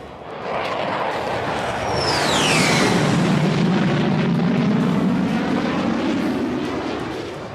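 Military fighter jets and helicopters flying during an air force exercise: a loud, steady jet roar swells and holds throughout, with a rising-then-falling engine whine sweeping past midway, close and dominant with no talk.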